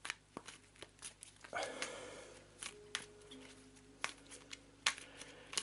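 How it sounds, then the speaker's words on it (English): Quiet riffling and snapping of a deck of playing cards being shuffled up close during an A Touch of Evil board game, with crisp clicks and soft papery slides. "Crappy shuffle."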